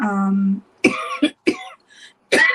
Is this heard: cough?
yes